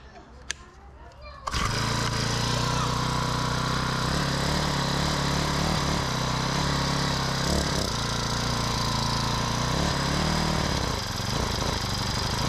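A Honda lawn edger's small engine catches after a brief quiet moment with a sharp click, then runs loud and continuously with a rough, buzzing drone that wavers slightly in places.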